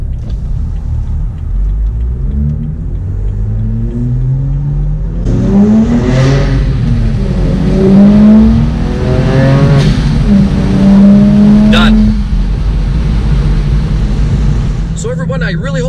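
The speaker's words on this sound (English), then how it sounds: "So now we'll do a rolling run from 20 kilometers an hour in this car" A BMW E92 335i accelerates hard in a rolling run from 20 km/h, its engine note climbing through rising revs with gear changes, loud and close from inside the car.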